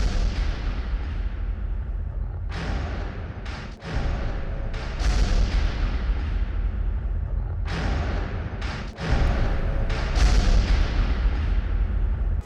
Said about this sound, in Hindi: जब एक के बाद एक कई धमाके गाजा पट्टी में हो रहे